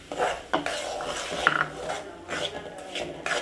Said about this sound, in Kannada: ಈಗ ರವೆಯನ್ನು ಹಾಕ್ತಾ ಇದ್ದೀನಿ.